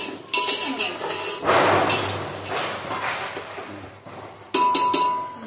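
Fried poha being roasted in a pan in a home kitchen, with metal clinks and scrapes of a spoon against the pan and a few sharper knocks, close up, no talking.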